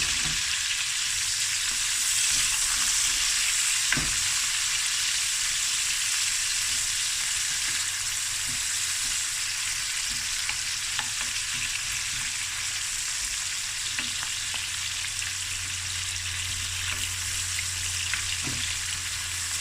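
Onions and curry leaves fry in a pot for snoek breyani, a sustained hissing sizzle with scattered pops and soft stirring knocks, fairly close and loud for about twenty seconds, no talking.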